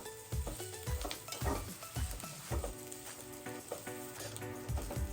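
Fresh grated coconut fries in hot oil in a pan, giving off a steady sizzle. A spoon knocks and scrapes against the metal at intervals as it is stirred, close by, with no talking.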